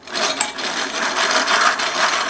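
A hand-cranked egg beater whips egg whites in a bowl, a steady whirring, scraping clatter running continuously and close with no pauses.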